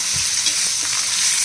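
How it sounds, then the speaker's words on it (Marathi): Cut ridge gourd hits hot oil with cumin seeds in a pan, giving a steady close hiss and sizzle with light stirring sounds, no talking. "जिरे तडतडले की त्याच्यामध्ये हे दोडका कट केलेला टाकून घ्यायचा"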